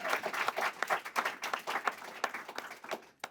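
A live studio audience applauds steadily at a first-ever live show, dense clapping from many hands that thins and fades out toward the end.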